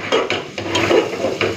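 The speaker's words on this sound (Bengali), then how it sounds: "এইভাবেই চিকেনটাকে একটুখানি কষে নিই" Chicken being sautéed in a pan, with repeated close scraping strokes of a spatula, roughly every few tenths of a second, over a low sizzle, no talking.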